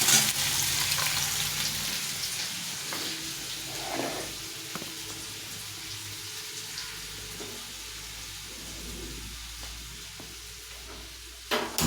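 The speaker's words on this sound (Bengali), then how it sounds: "কাজুটাকে ভালো করে লাল লাল করে ভেজে নিচ্ছি" Cashews fry in a pan until reddish-brown, giving a steady close hiss and crackle of hot oil with occasional stirring scrapes, no voices over it.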